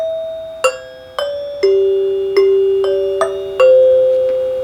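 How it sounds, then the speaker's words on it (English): A Rittenhouse Model 552 xylophone-style 8-note door chime, restored to working condition and struck with its hammer, rings out six or seven bright, clear tones in sequence, each one sustaining and slowly decaying. "A Rittenhouse Model 552 xylophone chime that's been brought back into good working condition"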